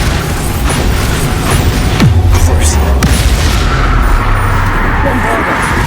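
Bombarda blasting spells go off in Hogwarts Legacy as loud, deep booms and bursts, close and heavy, with a spoken voice calling over the din.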